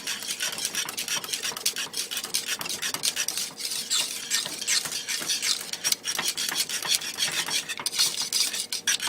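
A spoon rubs and scrapes continuously through pineapple pie filling in a pan off the heat as a tablespoon of butter is stirred in, a dense rasping swish that is close and steady, with no voices.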